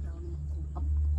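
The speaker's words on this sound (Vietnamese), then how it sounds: "gà đây" Chickens on a rural farm clucking in short bursts at midday, fairly close, over a steady low hum with faint voices in the background.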